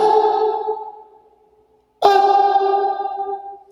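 A reverb chamber in a basement rings out two times, each a loud burst of sound that trails off into a long, sustained echoing tail, with a short silent gap between them.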